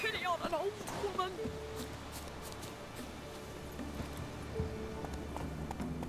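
Horse hooves galloping in The Witcher 3 video game, a steady rapid clip-clop running under background game sounds, with a short spoken line from a voice near the start.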